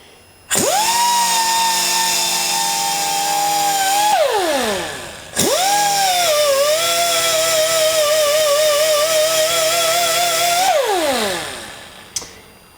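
Green twist-lock soft Scotch-Brite pad spinning on a power tool against a free-spinning English wheel anvil die, a steady loud whine in two long runs that winds down between them, with a brief clack near the end.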